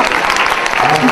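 A church congregation applauding and cheering their brother after a sermon, a dense burst of close, loud clapping mixed with crowd voices.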